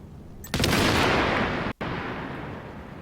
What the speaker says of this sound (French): Je vais te balancer une grenade à toi.